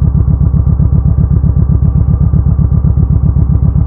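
A motorcycle with a loud exhaust idles steadily, a close, heavy, rapidly pulsing low rumble with even rhythm and no talking.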